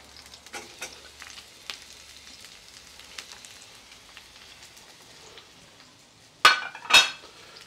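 Mushrooms and peppers fry in oil with garlic for a restaurant-style mushroom bhajee, giving a soft, crackly sizzle with scattered pops, then two loud bursts of sizzle near the end as more ingredients hit the pan.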